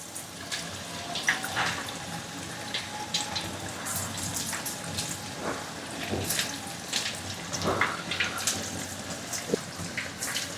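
Chicken pieces for pakora dropped into preheated hot oil, frying with a steady bright sizzle and crackle full of scattered pops, continuous and close throughout.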